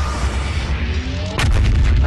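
A cannon's BFG blast fires in the video game Wild Hearts, a sudden heavy boom that cuts through a loud, dense rumble of game noise and keeps roaring after the hit.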